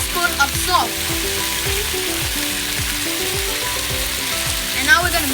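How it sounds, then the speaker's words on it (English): Beef sizzles and crackles as it is stir-fried dry in a hot pan for crying tiger beef, a continuous close frying hiss with scraping and stirring clatters scattered throughout. "Stir fry them really nicely"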